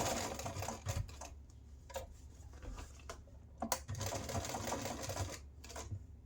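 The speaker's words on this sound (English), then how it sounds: "So I'm going to stitch a box stitch around it, and then I'll put an X through it just to make sure it stays in place." A sewing machine stitches a box with an X through it on a wand holster, running in several short bursts separated by brief pauses, close and moderately loud.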